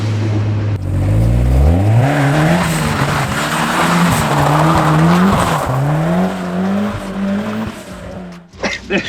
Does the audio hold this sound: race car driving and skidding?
yes